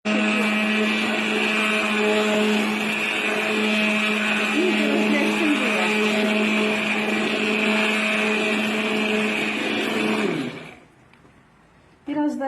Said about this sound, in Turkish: Ondan sonra bir de tekrar çekeceğim blenderla